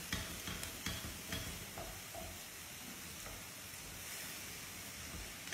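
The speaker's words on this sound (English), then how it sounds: "so that mince is browning up there nicely for us" Minced beef browning in a single pan for a curried savoury mince, a faint steady sizzle and hiss with occasional soft spoon scrapes.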